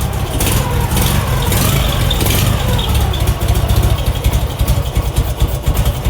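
A car engine is idling slightly low, a loud, steady rumble close by with a faint uneven pulse running through it and no talking.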